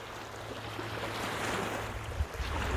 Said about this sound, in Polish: uspokajający szum fal